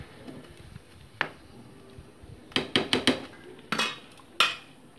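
A spoon scrapes and clinks against a cooking pot while vegetable khichdi with turmeric is stirred, giving a handful of sharp metallic knocks in uneven bursts over a quiet kitchen background.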